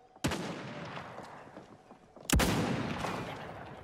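Gunfire in the chicken shooter video game Chicken Gun: two sharp, loud shots about two seconds apart, each trailing into a rumbling, echoing decay.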